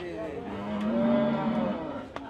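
A cow at Gabtoli cattle market gives one drawn-out moo close by, rising and fading over about two seconds, with faint market noise around it.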